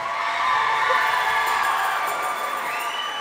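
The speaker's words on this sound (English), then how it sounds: "let's keep clapping one more time, one more time" An audience at a 2023 MIOS school concert cheers loudly, a dense, sustained roar of voices with high whoops and shouts rising over continuous crowd noise.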